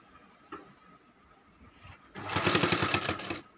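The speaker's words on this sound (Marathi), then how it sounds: "याप्रमाणे आता मी पूर्ण गोधडीला आडवी टीप मारायला चालू करत आहे." Sewing machine running a long stretch of cross-stitching on a large quilt made from eight old saris, a faint tap early on, then a loud, steady, rapid clatter of stitches close by.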